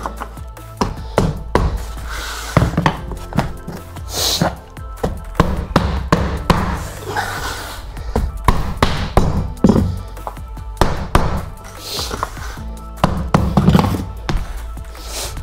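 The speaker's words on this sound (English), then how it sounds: "It's a different tone with the hammer when you actually get it and drive it home." Repeated hammer taps and thunks on laminate flooring planks, irregular and close, the tone changing as a plank seats home, with someone talking intermittently over the knocks.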